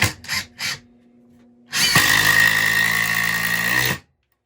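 A Metabo HPT 36V triple hammer impact driver gives a few short bursts, then runs for about two seconds in one loud, close, high whirring hammering burst that cuts off sharply.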